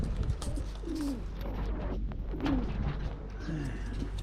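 Racing pigeons in a loft coo repeatedly in soft, low, throaty phrases at a steady pace, close by, over a constant background hum.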